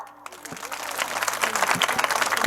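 Women in the audience at a public speech break into applause that quickly swells into steady, loud, dense clapping, with a voice faintly heard under it.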